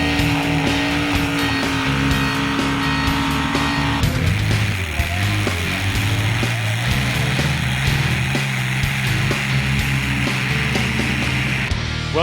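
A 27-litre-engined Riverina Screamer vehicle roars loud and close in a continuous heavy drone that shifts to a deeper, rougher tone partway through, then holds steady to the end.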